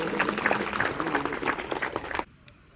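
Crowd applause for soldiers at an Independence Day parade held by an SRP Group 7 unit in Nadiad, dense steady clapping for about two seconds, then cutting off abruptly into near quiet.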